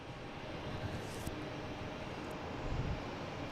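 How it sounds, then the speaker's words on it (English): A JetBlue Airbus A321 jet rolls for takeoff on runway 22, its engines a faint, distant broadband roar that holds steady and swells slightly toward the end, with light wind on the microphone. "we have a JetBlue heading to Las Vegas. Another one, A321, flight 2077. Lined up on 22, on the roll"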